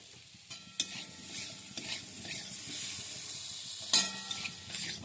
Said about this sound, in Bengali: আলুগুলোকে একটু নেড়ে নিচ্ছি